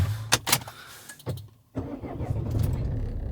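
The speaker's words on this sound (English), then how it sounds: "when I turn the car on" A car is started from inside the cabin: a couple of sharp clicks and cranking bursts, a brief near-silence, then the engine catches and settles into a steady running rumble close by.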